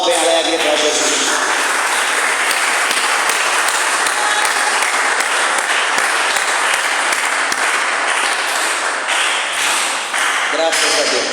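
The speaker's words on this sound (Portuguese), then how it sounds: "dê uma salva de palmas bem alegre para Jesus" A church congregation bursts into loud, joyful applause for Jesus, a dense, sustained wash of many hands clapping close and full for about eleven seconds, with voices mixed in under the clapping.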